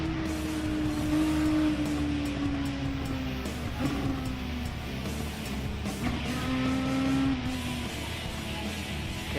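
Racing car engines droning steadily in a Gran Turismo Sport drag race at Blue Moon Bay, with sustained revving whose pitch slides slowly and shifts, loud and continuous throughout with no talking.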